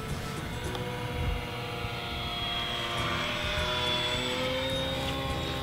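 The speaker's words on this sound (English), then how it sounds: "Let's get a nice close flyby." A HobbyKing Bix3 beginner RC plane makes a close flyby, its steady propeller and electric motor whine continuous and fairly loud throughout, rising slightly in pitch as it passes near.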